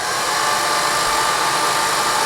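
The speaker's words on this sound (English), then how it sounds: "I'm going to blow dry again." A hair dryer blows steadily on gold metallic watercolor paint, a constant close, loud broadband whoosh with a low motor hum, unbroken from start to end.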